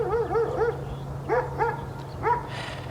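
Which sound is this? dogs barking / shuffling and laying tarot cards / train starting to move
dogs barking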